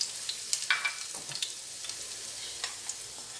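Garlic sautéing in hot oil in a pan for Venezuelan chicken and rice: a close, steady sizzle broken by sharp crackles and pops as it is stirred, with no talking.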